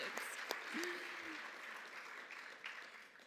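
An audience applauds honorees at an HR achievement awards ceremony with a faint, steady patter of clapping from a crowd, while a voice briefly sounds over it.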